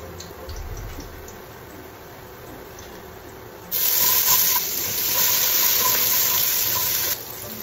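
Ginger fries in hot oil, a soft steady hiss that swells into a louder, brighter sizzle midway before dropping back, close by and with no voices.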